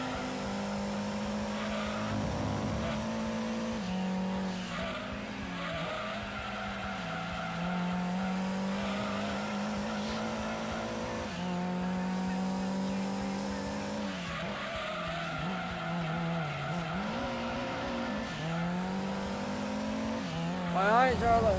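Race car engine in Gran Turismo 2, a steady high whine that rises and falls through gear shifts, with bursts of tire squeal, continuous and fairly loud, while a voice talks intermittently over it.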